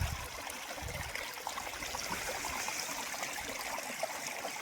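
Two rivers meet at a sacred prayag confluence, a constant rushing stream of flowing water heard close and unbroken, with a slight low rumble near the start.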